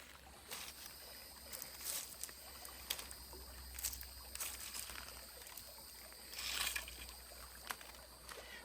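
A creek trickles and gurgles faintly beside a campfire site in the woods, with soft intermittent splashes and light crackling over a quiet low background.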